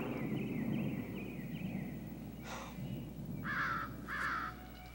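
A crow caws three times in quick succession, moderately loud against a steady background hum and faint outdoor ambience, with an earlier thin whistling call.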